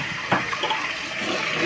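Cauliflower and soybeans are rinsed in water for a curry, with a brief close splash and a steady rush of running water.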